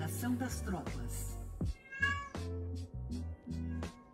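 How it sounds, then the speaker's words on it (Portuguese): A house cat meows repeatedly, a series of distinct, close meows with short pauses between them, mixed with background game sounds and no talk over the cries. "Meu gato tá miando, mano."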